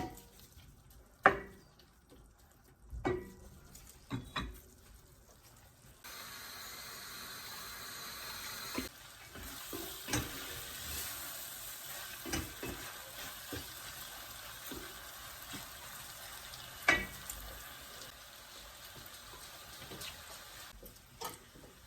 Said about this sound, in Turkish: suyunu iyice çekinceye dek e, kavrulması için bırakıyorum